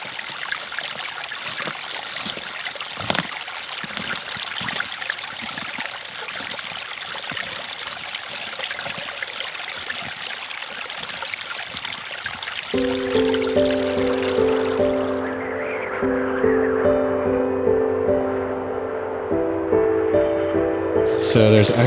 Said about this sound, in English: So that flows down into the creek down there.